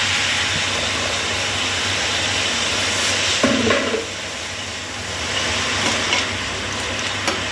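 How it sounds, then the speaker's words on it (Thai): Minced pork stir-fried with Chinese kale in a hot pan or wok, a steady close sizzle and crackle with scraping stirs throughout, one brief louder burst as the greens go in. "เราจะผัดทุกอย่างให้เข้ากันนะคะ"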